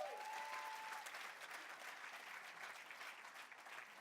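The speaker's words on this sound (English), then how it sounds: "Let's give them a round of applause." Church congregation applauding the choir during a Sunday service, a steady wash of many hands clapping together, sustained for several seconds with a faint tone at the start.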